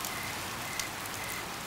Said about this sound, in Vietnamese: Ôi, nè, trời mưa rồi.